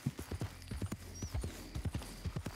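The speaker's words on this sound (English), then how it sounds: "Well, I know horses, Brandon. That's a fine one." A horse walks along in Red Dead Redemption 2, its hooves clip-clopping in a steady, close rhythm of many quick, distinct steps, with no talking over them.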